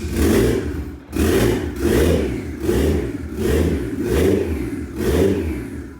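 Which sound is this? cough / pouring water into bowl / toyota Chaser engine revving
toyota Chaser engine revving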